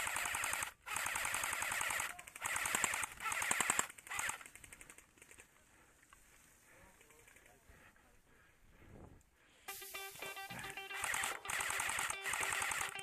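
Rapid automatic gunfire in a multiplayer shooter game, loud sustained bursts that thin out mid-clip and then return with fast, crisp shots.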